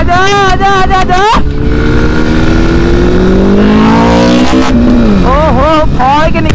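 A Suzuki Hayabusa and a Hero Splendor motorcycle race, loud engines revving and shifting with rising and falling pitch, very close and dominant, with a voice shouting over them.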